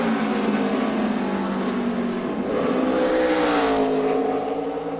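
A NASCAR Sprint Cup stock car runs a qualifying lap at Richmond, its loud engine roar rising and sweeping past as it nears and pulls away, with no talk over it.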